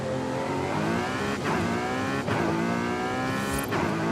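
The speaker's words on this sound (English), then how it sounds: "The engine definitely sounds more muted, but the sense of the speed improves when you're driving like this." Car engine roaring steadily while driving fast in the racing video game Forza Horizon 4, a continuous loud drone with gear-shift dips and rising revs, slightly muted in tone.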